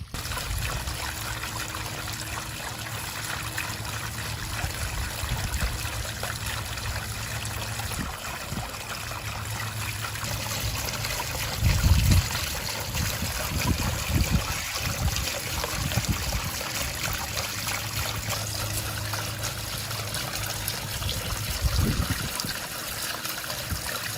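Water trickles and dribbles steadily from a small backyard pond waterfall, a continuous close wash with occasional low bumps and no talk.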